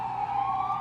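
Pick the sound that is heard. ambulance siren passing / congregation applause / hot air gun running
ambulance siren passing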